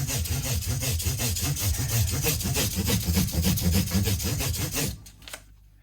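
Rhythmic back-and-forth rasping of hand sanding on a Squier Strat guitar, steady and close for several seconds, then it stops, leaving a faint scrape or two.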